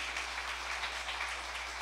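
Congregation applauds the Virgin Mary at a Charismatic Renewal sermon, a dense, even burst of many hands clapping together over a low steady hum.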